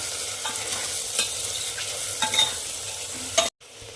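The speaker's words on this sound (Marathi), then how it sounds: "तर हे सर्व टाकून आपण मिक्स करून घ्यायचं आहे।" Salt, chutney and turmeric being stirred into a hot pot for Marathi pavta rice, a close sizzle under repeated spoon scrapes and clinks, ending with a sudden cut to near silence.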